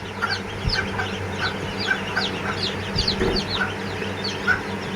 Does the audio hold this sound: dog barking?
no